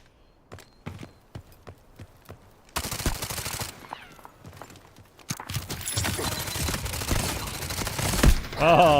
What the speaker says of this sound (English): Oh, we got so many shots in him